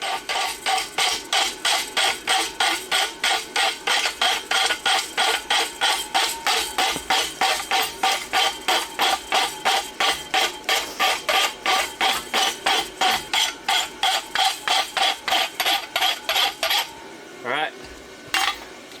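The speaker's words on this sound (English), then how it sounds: "So I'm gonna rasp this up" A rasp is worked back and forth across a small roadster horseshoe, producing a long run of regular, close scraping strokes at a steady brisk rhythm that stops near the end, followed by a few faint clinks.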